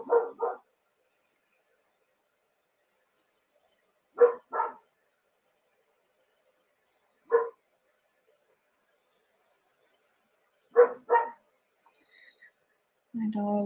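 A dog barks from another room, muffled and moderately distant, in short paired bursts separated by long silences, with a voice starting at the very end.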